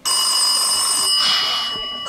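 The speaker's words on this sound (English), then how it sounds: "My phone's calling." A phone rings with a steady, loud electronic trill that fills the clip, then breaks off near the end.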